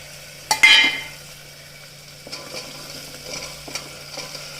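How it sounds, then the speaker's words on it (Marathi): Vegetables, peas, potatoes and tomatoes, tipped into ginger-garlic paste frying in oil, a loud burst of sizzling and clatter, then steady stirring scrapes and a softer sizzle, close by with no voices. "आता भाज्या घालून घेते त्याच्यामध्ये"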